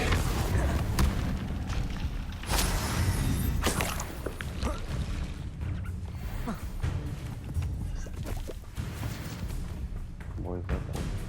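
Incendio fire spell blasts in the video game Hogwarts Legacy, loud booming whooshes and thuds repeating irregularly over a dense background of game combat noise, with a voice speaking at times.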